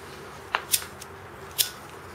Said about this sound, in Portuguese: vou cortar aqui um bocadinho de quental 20